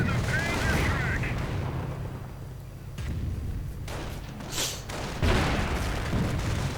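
Artillery shells pound a base in a real-time strategy battle, several heavy booms and crackling blasts landing at intervals over steady battlefield noise.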